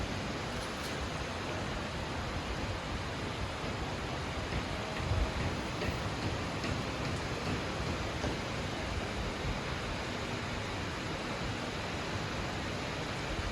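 Rain falling steadily outdoors in Vientiane, Laos, a dense continuous hiss of drops on wet ground, even and unbroken throughout.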